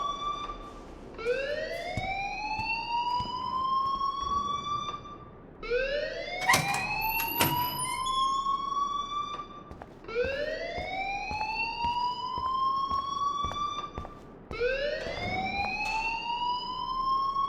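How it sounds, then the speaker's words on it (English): Alarm ringing in a school in the video game Life is Strange, a loud electronic wail that sweeps upward in pitch and repeats about every four seconds, alone with no talking. "please turn off that alarm since that's your job"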